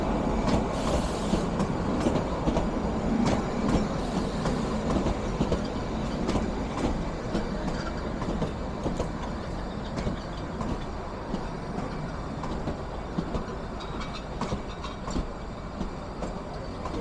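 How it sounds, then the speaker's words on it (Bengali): Kalka-Shimla toy train rolling past on the narrow-gauge line at Kathlighat station, a steady, loud rumble of wheels and carriages with clickety-clack rail rhythm throughout, no voices. "ট্রেনটা বেরিয়ে গেল, আমাদেরটা সাইডে দাঁড়িয়ে রইল"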